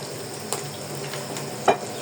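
Fish sizzles and crackles in a hot pan, a steady frying hiss broken by a couple of sharp clinks.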